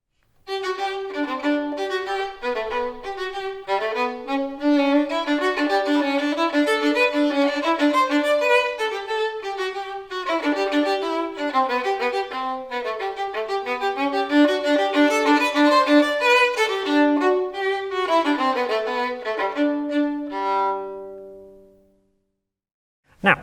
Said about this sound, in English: Let's listen to this example from Johann Sebastian Bach's Third Brandenburg Concerto.